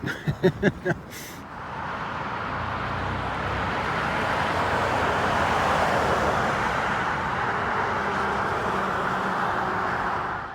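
A few sharp clicks at the start, then a steady roar of passing road traffic, cars rushing by continuously at moderate loudness.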